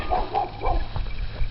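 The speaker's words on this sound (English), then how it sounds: "that would be my neighbor's dog." A neighbor's dog named Allie barks a few short woofs close by outdoors in a backyard berry garden in Western New York in early spring.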